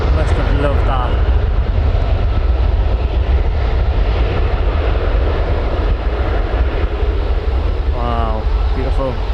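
Aircraft at Newcastle Airport heard as a steady, loud broadband roar holding through the whole span, with people speaking briefly over it near the start and end.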